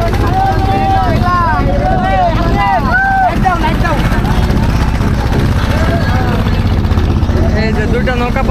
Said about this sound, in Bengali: আমরা কিন্তু 2টা নৌকা পাশাপাশি রেস লাগাইছি